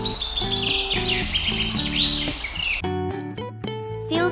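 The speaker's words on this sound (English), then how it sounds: "can you hear the birds singing in the trees?" Birds sing in the trees, bright chirps and tweets repeating over a gentle tonal musical backing, clear and close, with no speech.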